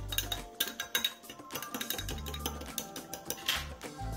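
Šopska salad being tossed in a bowl with salt and crumbled feta, giving a steady run of light clinks and scrapes of a utensil against the bowl, close and fairly quiet.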